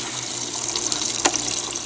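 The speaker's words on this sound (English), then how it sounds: "You can now dispense alcohol from the cold and hot water taps." Alcohol running from the cold and hot taps of a water dispenser during sanitation, a steady close hiss of liquid flow with a brief splash near the middle, alone without voices.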